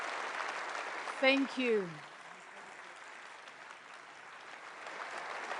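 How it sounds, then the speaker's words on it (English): At a NATO summit, an audience applauds President Zelensky of Ukraine with a broad, moderate wash of clapping. Someone speaks briefly over it near the start, and the applause swells again at the end. "a very big round of applause for the President of Ukraine, Volodymyr Zelensky"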